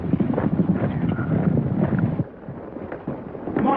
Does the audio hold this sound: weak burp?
no